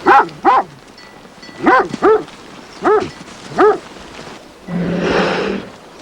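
A herding dog bred to guard flocks barks in short, sharp bursts, about eight yelps in an uneven rhythm, close and loud, followed by a brief burst of noise.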